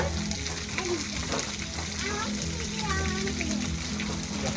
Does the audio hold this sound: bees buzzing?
no